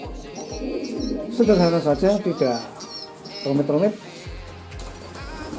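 Caged pigeons coo in soft, low repeated pulses, heard close and fairly regular, while someone talks over them for much of the time.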